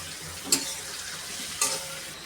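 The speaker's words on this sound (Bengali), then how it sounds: "এখন আমি শিং মাছটা ভালো করে কষিয়ে নেব" Stinging catfish sizzles steadily in hot oil with spices, broken by two brisk scrapes of a spatula stirring the pan.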